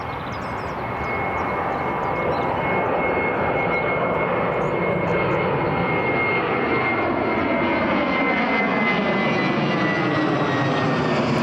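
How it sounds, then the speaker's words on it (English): A British Airways jet airliner departs Newcastle Airport bound for Heathrow, its steady, loud engine roar filling the air with a broad rushing drone that holds throughout, with no talk over it. "The British Airways just departing there to Heathrow."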